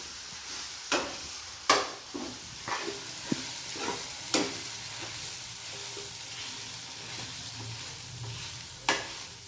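A green paste of seeds, chili, garlic and coriander fries in oil with a steady sizzle while a spoon stirs it, giving several sharp scraping knocks against the pan.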